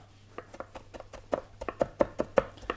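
A knife chops herbs finely on a cutting board for salmon gravlax, a quick series of crisp close taps that speeds up and grows denser and louder toward the end, with no talking.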